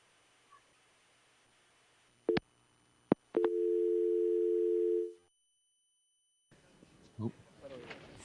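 Telephone busy signal during an outdoor parade broadcast: a few short beeps, then a sustained two-second tone that cuts off, followed by faint background sounds and murmuring.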